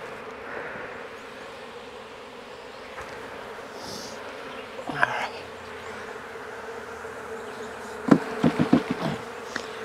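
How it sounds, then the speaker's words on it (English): Honey bees swarming during a late May swarm capture near drone comb, a steady dense buzz throughout with a few sharper, closer bursts of wingbeats and knocks toward the end. "these bees are starting to fly up and get agitated."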